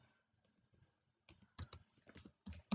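Typing on a computer keyboard, close and fairly quiet. A few soft keystrokes come first, then a quick uneven burst of clicking keys with no talk.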